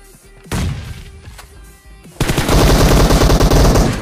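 Automatic gunfire sprays in a PUBG Mobile match: a few single loud shots, then a sustained rapid burst of close, booming rounds that dominates the end.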